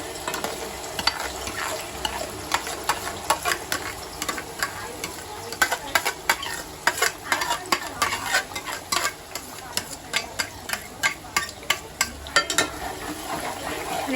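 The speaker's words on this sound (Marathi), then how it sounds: "आणि चांगलं परतून घ्यायचं" Masala paste for mutton rassa sizzles and fries steadily in a pan, with a spoon scraping and stirring in repeated close strokes over the continuous hiss.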